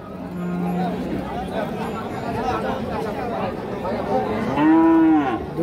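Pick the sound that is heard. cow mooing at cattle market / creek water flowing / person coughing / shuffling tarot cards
cow mooing at cattle market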